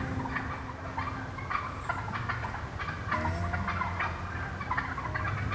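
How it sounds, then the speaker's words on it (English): A wild turkey gobbler gobbles repeatedly during a fall hunt, its loud, rattling calls mixed with the calls of other turkeys nearby over a constant outdoor background. "Oh, there's a gobble."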